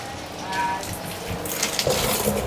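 Water from a pipe gushes into a fish tank being topped up for betta and guppy fish, a steady close rushing splash that grows slightly brighter partway through.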